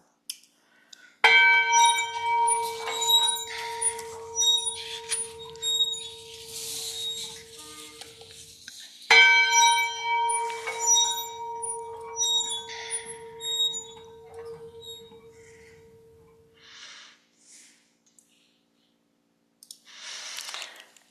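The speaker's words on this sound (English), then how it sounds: "Here's the sound of the Minot shipyard bell." A shipyard bell rings with two sharp struck tones, each sustaining a long bright metallic hum that slowly decays, followed by faint clicks and a squeak as it settles.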